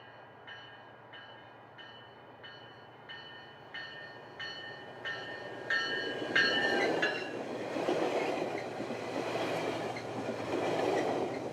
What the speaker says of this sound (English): Metrolink 857 was captured departing the station